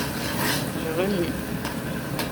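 A spoon stirring a tomato sauce with chopped garlic in a pan, a short close scraping and soft sizzling with a few light knocks, no voices.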